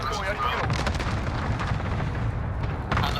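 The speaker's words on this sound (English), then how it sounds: "that had an airstrike" Airstrike explosions in the Call of Duty Warzone video game rumble as a dense, loud, sustained boom with a heavy low end, while voices talk over the blasts throughout.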